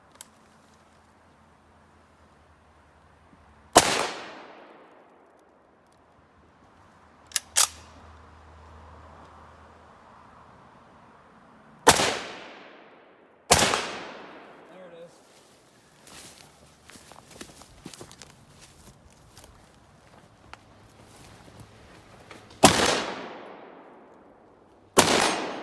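SVT-40 semi-automatic rifle shots fired at a target ring out loud and close, about five sharp cracks spaced several seconds apart, each trailing off in echo, with handling clatter between.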